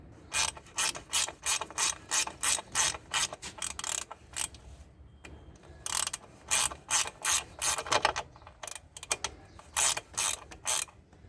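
Ratchet wrench clicking in quick bursts as a Yamaha motorcycle's rear axle nut is tightened, close and fairly loud, with short pauses between runs of rapid pawl clicks.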